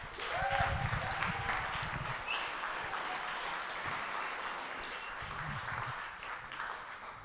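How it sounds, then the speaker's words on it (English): Guests at a wedding reception give a sustained round of applause during the speeches, a faint, steady wash of clapping with low murmuring voices mixed in. "everyone give them a round of applause while they come up"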